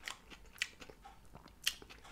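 Faint, sporadic crunching bites into Taco Bell crunchy tacos, a few sharp crisp snaps spread out over a quiet background.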